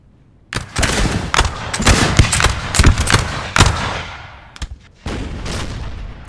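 Artillery booms and crackling musket volleys from a Napoleon Total War multiplayer battle, with heavy overlapping shots and blasts stacking into a dense, continuous barrage, a brief lull, then another burst of fire.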